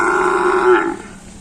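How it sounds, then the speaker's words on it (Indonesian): A cow at a bull-racing practice ground in Java gives one loud, close, drawn-out moo lasting about a second before trailing off into quiet. "ada sapi juga."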